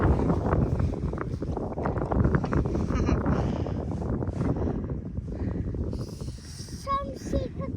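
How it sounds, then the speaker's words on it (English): Strong gusts buffet the microphone on an exposed, windy hillside where sheep graze, a constant roaring rumble with surges, and brief voices toward the end. "This is how windy it is."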